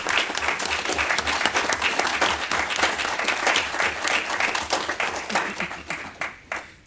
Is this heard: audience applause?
yes